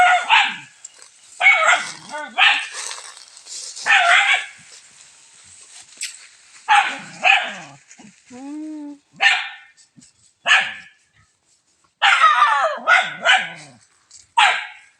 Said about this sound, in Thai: พอแล้วไม่เห่าแล้ว